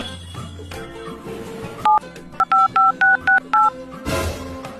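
A phone keypad gives a run of short, evenly spaced beeping dialing tones, about eight in a row, loud and close, with background sounds before and after.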